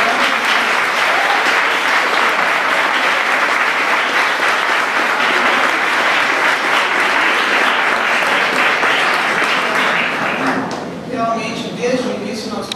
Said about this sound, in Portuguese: Então eu peço o nosso aplauso para o Assis Brasil.